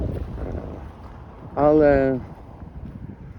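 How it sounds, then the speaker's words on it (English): Outdoor wind buffets the microphone in a steady low rumble throughout, with a short spoken phrase rising above it midway. "move to another spot again because it's too windy here"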